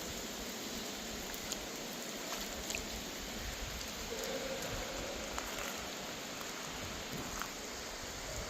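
Rain falls steadily at a teardrop trailer campsite near a seeping stream. It makes a soft, continuous hiss of drops with faint scattered taps, with no voices.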